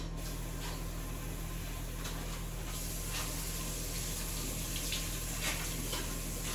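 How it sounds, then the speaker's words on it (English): Black beans rinsed under a running kitchen tap, a steady close hiss of flowing water with faint splashes and no voices. "it's a good thing that you wash them because the beans tend to smell a little bit, so if you rinse them, they'll be better."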